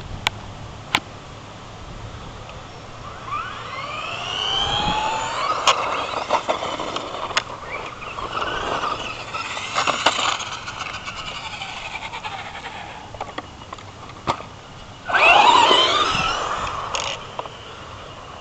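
A Traxxas Slash RC car drives and does a reverse 180. Its electric motor whine sweeps up and down in pitch with intermittent bursts, and there is a louder surge near the end.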